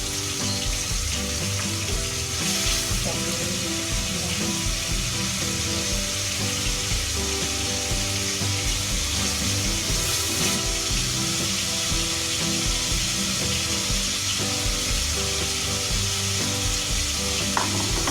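Shallots frying for tahu bacem, with a steady, dense sizzle of oil in a pan running loud and unbroken throughout, with faint stirring scrapes and no talking.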